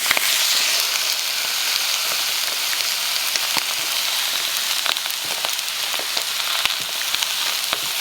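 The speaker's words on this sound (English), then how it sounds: "So I'm going to just fry up this chicken first." Loud, continuous sizzling and crackling of chicken frying in a hot pan, with occasional sharper pops and no voices.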